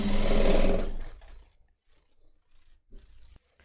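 A sewing machine stitches a chemise dress with a ruffle, a loud, fast whirring burst lasting about a second up close, then stopping, followed by faint handling noises.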